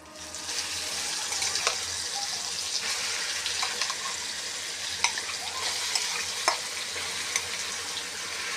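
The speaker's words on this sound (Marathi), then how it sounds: "कढीपत्ता आपला छानपैकी भाजला की त्याच्यामध्ये आपल्याला आपलं वाटण टाकायचं आहे" Green chili paste frying with curry leaves in a pan, giving a loud, dense sizzle that runs the whole time, with a few sharp scrapes as it is stirred.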